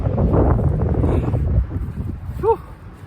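Strong wind roars and buffets the microphone up close on a roadside during a long-distance run, with a short high whistle-like tone near the end.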